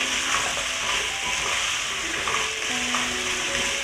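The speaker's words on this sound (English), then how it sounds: "I'll cook it for a minute, stirring." Drained cassava fries in oil in a pot and is stirred during cooking for a coconut fish curry and cassava oil down, a loud, steady sizzle with faint scraping strokes, heard alone without speech.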